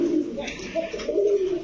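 Old-breed khoyra-necked pigeon cooing up close, a low throaty rolling coo that swells and repeats over a second or so, with faint talk in the background.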